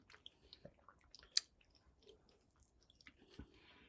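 Soft, intermittent chewing and biting of candied orange almond treats by people eating, faint and close with scattered crunchy clicks and wet smacks, no speech.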